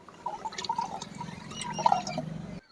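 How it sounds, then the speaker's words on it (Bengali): Strained liquid fertilizer made from ripe mango peels being poured, a soft trickle with small splashes and drips, fairly quiet and close, lasting a couple of seconds with no voices. "এরপর দেখুন আমি এটাকে এইভাবে ঢেলে নিচ্ছি দেখুন"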